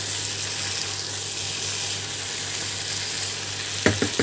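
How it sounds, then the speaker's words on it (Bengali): Cumin-spiced potatoes sizzle steadily in a frying pan, a continuous even crackle, with a few quick scraping stirs near the end. "হালকা হাতে আবার একটু নাড়িয়ে দেবো"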